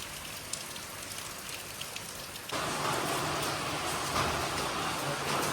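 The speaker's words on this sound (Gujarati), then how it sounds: "તો અત્યારે વરસાદ ચાલુ છે" Rain falling outside during monsoon with fields flooded, a dense steady hiss that swells suddenly louder halfway through and stays heavy, no voices.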